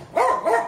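Two barks from a dog in a residential subdivision, moderately loud and close, one around a quarter second and another just after half a second, with nothing else alongside.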